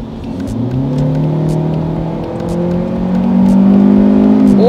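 A Hyundai Avante facelift accelerates, its engine note rising steadily in pitch and loudness as it revs up, heard from inside the car with no talk.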